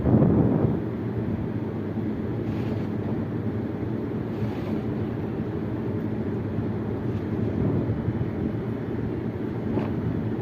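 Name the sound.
strong wind blowing, flag flapping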